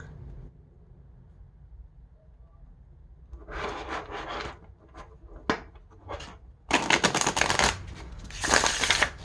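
Crisp bursts of playing cards being overhand shuffled by hand, quiet at first, then louder ruffling flurries toward the end, close by.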